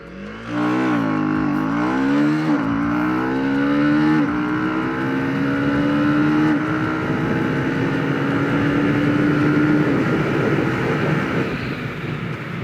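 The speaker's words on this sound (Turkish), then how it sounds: "bu 0-100 denemesinde hem quick shifter'ı hem de motorun performansını az buçuk görmüş olduk" A Husqvarna Svartpilen motorcycle accelerates hard from standstill to 100 km/h, its engine note climbing in rising sweeps and snapping down at each quick-shifter gear change, loud and close throughout with no talking.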